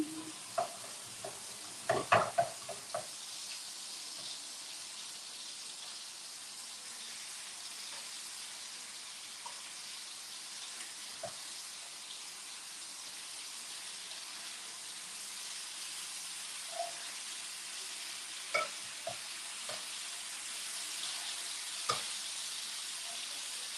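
Chicken frying in a pot for Bajan brown stew, a faint, steady sizzle hissing continuously, with a few scattered clinks and stirring knocks early on and near the end; no talk.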